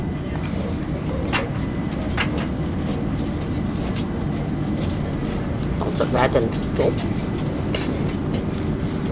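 Interior of a moving Southern service train bound for London Victoria, with a steady low rumble and wheel noise throughout and a few brief clicks; a voice speaks briefly over it.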